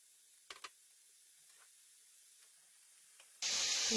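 Oil heating in a frying pan for sofrito, quiet with a few small clicks, then a sudden loud hiss and sizzle bursting in for the last half-second.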